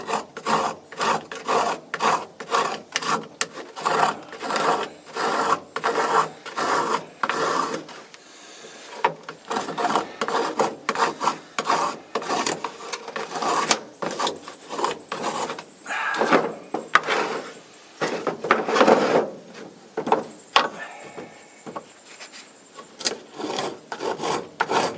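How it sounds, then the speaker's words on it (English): Steady, rhythmic scraping of a Smiths tinder box striker, a close, dry rasping rub repeated in quick strokes for the whole stretch with brief pauses, no talking over it. "Let's see if it gets anything with that little bit of scraping."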